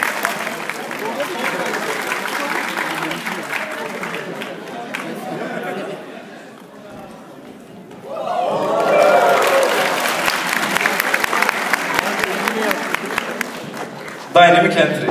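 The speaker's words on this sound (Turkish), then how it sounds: "Kocaman bir alkış alıyoruz." An audience at a cosplay contest claps for a contestant, applause swelling, dipping briefly, then rising again into dense clapping with chatter and voices mixed in.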